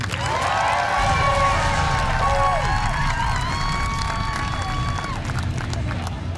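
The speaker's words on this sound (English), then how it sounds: "we got to hear who you're cheering for" Loud crowd at a barebow archery bronze-medal match at the World Games in Birmingham, cheering and whooping for the United States, a sustained roar with shrill whistles and shouts, voices mixed into the din.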